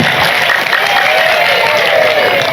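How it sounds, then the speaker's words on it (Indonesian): Audience at an Islamic study gathering in Banjar Kulon clapping for the local PKK women's group, a steady burst of crowd applause with some voices mixed in. "Tepuk tangan dulu dong buat PKK Banjar Kulon"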